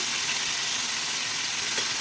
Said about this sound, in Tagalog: One by one natin i-prito na maging golden brown lang.